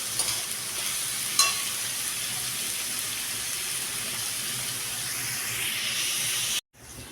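Sliced onions sizzle and fry in a pan before prawns go in, giving a steady, close hiss with a few sharp crackles and stirring scrapes, then the sound cuts off abruptly near the end.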